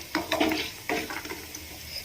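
Dried red chilies broken into pieces fry in hot tempering oil, sizzling steadily with a few brief crackles and a spoon stirring close by.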